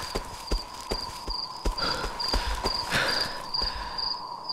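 Horse hooves clip-clopping in a video game, a steady rhythm of sharp near clicks about twice per second over a continuous high insect-like chirping, no talking.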